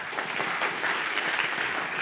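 A lecture audience claps together in a steady, dense burst of applause from many hands, fairly loud and continuous throughout with no voice over it.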